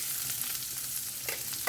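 Chopped onions frying with garlic in a pan for lehsuni palak paneer, a soft, steady sizzle with light stirring near the end.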